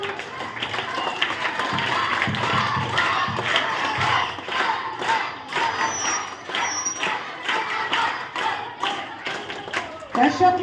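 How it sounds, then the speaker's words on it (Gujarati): A school audience at a Janmashtami 2025 event claps in a rhythmic three-beat pattern, repeated bursts of crowd clapping with cheering and voices mixed in. "તો બધા શિક્ષકોને 3 સ્ટેપ વાળી તાળીઓથી વધાવશું"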